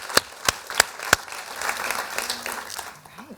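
An audience applauds a discussion panel on diversity and inclusion in a hall. A few sharp, separate claps come first, then they blend into a steady, moderate round of clapping that fades toward the end.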